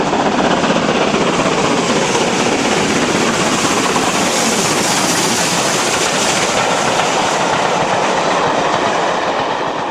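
Steam locomotive Rude Ashton hauls a private charter train from Marylebone to Snow Hill, making a loud, continuous roar of exhaust and running gear. The sound is dense and steady, stays close, and holds without pause for ten seconds.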